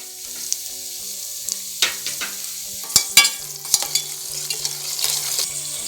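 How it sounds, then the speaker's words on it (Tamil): Cashew nuts fry in hot ghee for sakkarai pongal, a close, crackling sizzle punctuated by sharp stirring clatters and spoon-against-pan knocks. "இப்போது காஞ்ச நெய்யில் இப்போ முந்திரி பருப்பு எடுத்துக்கிறோம்"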